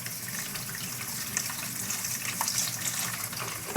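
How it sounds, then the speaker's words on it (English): Dandelion flowers rinsed under a running kitchen tap, a steady close gush of water with small splashes as the blossoms are moved through the stream. "I'm just going to rinse them off"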